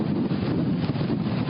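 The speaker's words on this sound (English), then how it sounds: "whoa, there goes another big gust." Strong hurricane wind gust roaring at Satellite Beach, Florida, a steady loud buffeting rush that batters the microphone throughout, with no voices.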